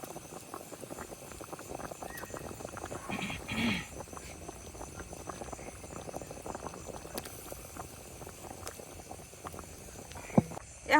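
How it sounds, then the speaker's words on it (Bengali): A pot of curry broth with pangas fish and pointed gourd dolma comes to a rolling boil in a village kitchen, with a steady close bubbling and crackle running throughout and a brief louder burst midway. "বলক এসে গেছে"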